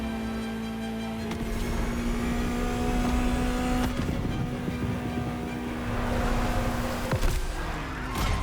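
A Ferrari supercar engine drones steadily in the driving game The Crew Motorfest, a sustained close engine tone with light rises in pitch and no talking.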